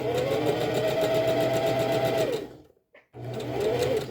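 A sewing machine back stitching a seam on pajama pants, running steadily and close for over two seconds, then stopping briefly before whirring again.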